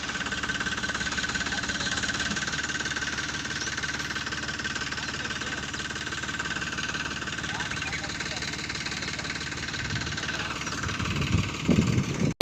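A tractor engine idles steadily at close range for the whole stretch, a continuous low rumble with a faint knocking texture and no breaks.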